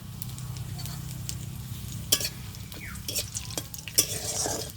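Whole cumin, bay leaf and dried red chili hit hot oil in a kadai, a steady close sizzle with several sharp crackles and spatters that build toward the end.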